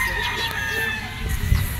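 Gamecock roosters crow at a crowded poultry convention, their calls thin and somewhat distant behind general crowd noise and voices talking nearby.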